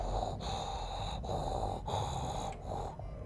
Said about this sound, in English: You can actually hear it breathing.